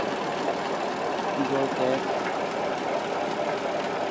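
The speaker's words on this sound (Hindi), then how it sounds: "सर ये है 260 ट्रैक्टर न्यू मॉडल" Massey Ferguson 260 Turbo tractor, new model, idling while driving a tubewell shaft, a steady low knocking diesel chug running continuously close by, with someone speaking briefly over it.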